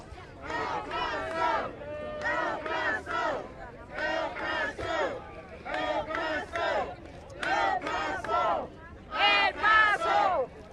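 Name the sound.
crowd chanting El Paso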